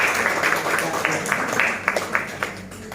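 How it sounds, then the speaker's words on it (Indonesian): A classroom group of university students gives group 1 a round of applause, dense and fairly close, with some voices mixed into the clapping. "kita kasih aplaus untuk kelompok 1"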